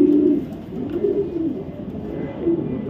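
Racer pigeons in a loft cooing in low, rolling calls that swell and fade repeatedly, close and fairly loud, with no voices over them.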